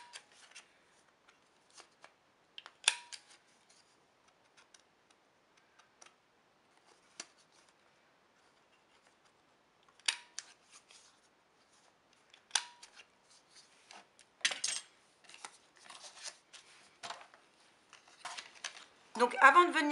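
Corner rounder punch on its smallest setting trimming paper card corners, a series of sharp, dry clicks and snips scattered across the stretch, quiet between cuts, with a louder rustle of paper at the end.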